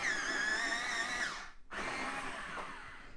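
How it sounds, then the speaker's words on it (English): A white Pablo colored pencil turns in an electric sharpener, giving a steady, fairly loud whirring grind that stops sharply midway, then starts again and runs on. "So I'm going to get the white Pablo and sharpen that up."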